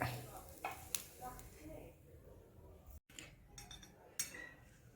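Amboli dosa cooking on a pan, a soft steady sizzle with occasional clinks of a spatula or utensil against the pan, faint and close, with some speech over it.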